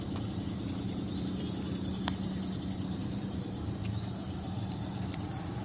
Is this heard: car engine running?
yes